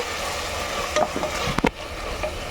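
Tomatoes fry in a pan for mutton potato kurma, a soft steady sizzle broken by a few brief scraping stirs of a spoon against the pan.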